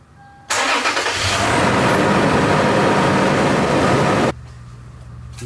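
Toyota 4Runner engine starting up, a loud broadband burst that settles into a steady close idle for about four seconds before cutting back to a quieter hum.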